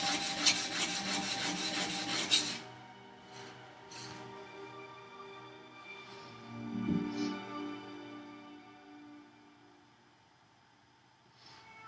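Steel plane iron rubbed by hand across a sharpening stone, a soft raspy scraping that starts louder and fades to quieter intermittent strokes, close and low in level with no talk.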